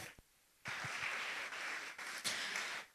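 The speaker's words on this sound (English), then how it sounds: "Once again, a round of applause, please," An audience at a live televised event bursts into steady, moderately loud applause that starts abruptly after a brief quiet pause and carries on for a couple of seconds before fading.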